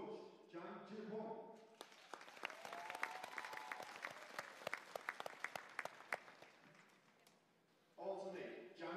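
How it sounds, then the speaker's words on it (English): Scattered arena applause at a women's world curling championship, individual claps ringing out sparsely and echoing, framed by an announcer's amplified voice before and after. "Ladies and gentlemen, please give a huge applause to Coach"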